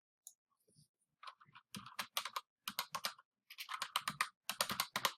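Fingers type a folder name on a computer keyboard, a few scattered taps, then bursts of quick, close clicking keystrokes in irregular rhythm, alone in a quiet room.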